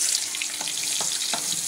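Chopped garlic and onion with dried red chillies fry in hot oil for a Bangladeshi bottle gourd leaf dish, a dense bright close sizzle with a few soft stirring taps, no voices.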